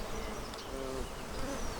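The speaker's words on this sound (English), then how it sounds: "you can see the bees working on the combs down there" Honeybees from an overwintered colony hum as they work on combs inside an opened outdoor hive, a close, soft, continuous buzz with individual bees drifting past.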